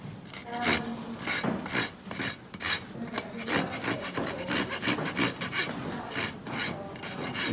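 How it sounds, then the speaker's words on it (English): A farrier's rasp scrapes across a horse hoof in repeated rhythmic strokes, coarse and close, each pass a gritty burst with brief gaps between, no voices present. "when you're trying to go through it with the rasp, trying to think where the hoof wall actually is"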